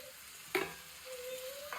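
Egg bhuna frying in a pan in a Bangladeshi home kitchen, with a soft, steady sizzle and a couple of brief clinks or scrapes from stirring.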